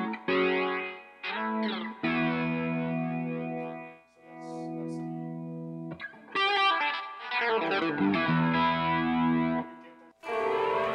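Electric guitar run through a TC Electronic Vortex Flanger pedal on a tape-style flanger setting, chords and riffs sweeping with a swirling, jet-like whoosh, fairly loud and continuous with brief pauses between phrases.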